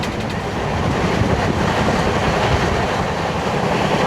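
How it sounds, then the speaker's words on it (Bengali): Superfast train rolling along after pulling out of Bandel Junction, a steady loud rumble of wheels and carriage noise filling the whole stretch with no pauses. "আমাদের ট্রেন তো ব্যান্ডেল জাংশন ছেড়ে দিয়েছে"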